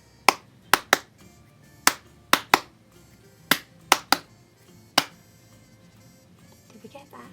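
Close, crisp claps or snaps tap out a counting pattern of about nine hits, some in quick pairs and triplets with pauses between them. A faint murmur of a voice comes in near the end.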